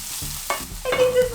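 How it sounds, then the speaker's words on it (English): Onion cooking in a pan while being stirred, a brief sizzle with scraping stir sounds, louder toward the end, close up with no talking. "So now we've got to cook up the onion, and then you add in the rest of the things all in here."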